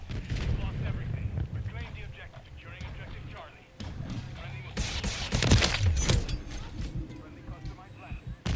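Friendly missile strike in Call of Duty Modern Warfare III hits midway as a loud roaring blast with a rumbling tail, following game announcer voices and battle noise, with someone talking near the end.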